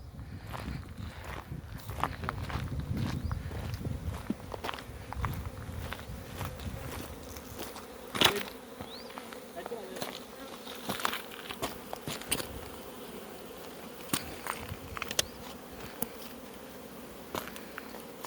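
Honey bees humming around an open beehive at a beekeeping centre in Patiala, a steady close buzz with many sharp clicks and taps of frames being handled, no talking.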